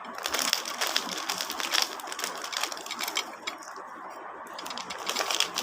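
Grains of salt dropped onto a glass plate make a dense, crackling patter of tiny ticks that runs continuously, close and moderately loud, with no talking.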